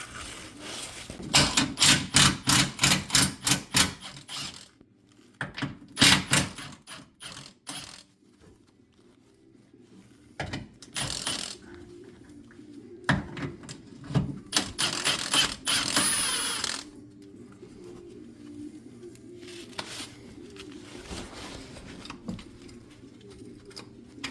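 Ratchet wrench loosening 16 mm bolts on a 2008 Jeep Grand Cherokee during a front differential mount bushing replacement, rapid clicking ratchet bursts repeating in several runs with pauses between, close and loud.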